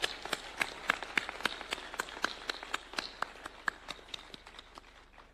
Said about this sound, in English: Let's clap for AGF.